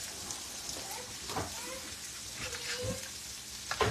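Pancakes fry in a pan with a soft, steady sizzle and crackle, faint and close, with brief clinks and light background voices over it.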